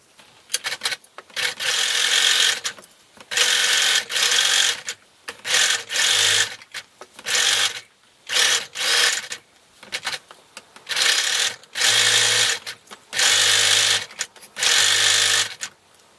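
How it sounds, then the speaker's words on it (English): A sewing machine zigzag-stitches around a folded half-inch fabric hem on a balaclava, running in about a dozen steady bursts of close, loud mechanical whirring separated by brief pauses. "Sew around each hem with a zigzag stitch."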